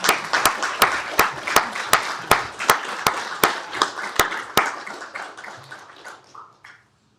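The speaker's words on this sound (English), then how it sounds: "Let's give them a round of applause" A room applauds county board members at a commissioners court meeting: sharp, evenly spaced claps stand out at first over a smaller scattering of hands, then the clapping thins and fades out after about five seconds.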